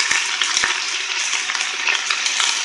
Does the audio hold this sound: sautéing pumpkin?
yes